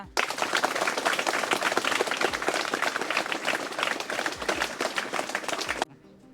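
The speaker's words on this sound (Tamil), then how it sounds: "கைத்தட்டலாம்டா" An audience at a school student prize ceremony in Nagapattinam claps steadily for several seconds, a dense wash of hand claps that stops abruptly at the end.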